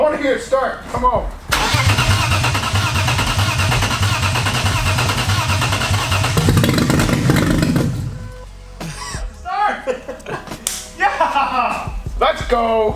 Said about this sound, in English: So we got the car started on brake clean, but we don't think it's getting fuel.